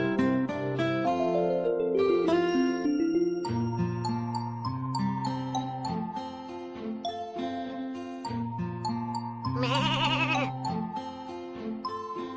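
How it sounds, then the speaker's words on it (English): Cartoonish sheep bleats ring out in a children's farm video game about caring for a sheep, several wavering calls over bright tinkling music and chimes, with a sparkly jingle near the end. "Your sheep's wool has grown."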